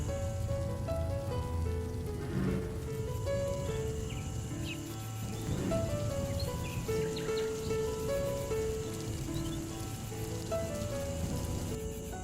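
Rain falls in a bleak, rainy scene as a soft, steady patter on surfaces, faint and continuous, with occasional drips and gentle tonal sounds layered over it.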